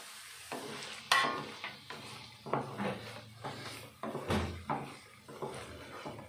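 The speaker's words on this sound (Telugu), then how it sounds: "ఇప్పుడు చికెన్ పీసెస్ వేసేసుకుందాం." Chicken pieces tossed into a pan of frying ginger-garlic paste for chicken pickle, then stirred: close scraping and knocking of a utensil against the pan in uneven strokes over a soft sizzle.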